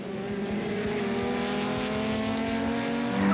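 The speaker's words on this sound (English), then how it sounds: "Jonathan du Toit's light and nimble Chevron B8 has the cornering over Franco Scribante's Porsche 911 RSR" Race car engines, including a Chevron B8 and a Porsche 911 RSR, drone steadily on a circuit, a high sustained whine that swells louder as a car nears at the end.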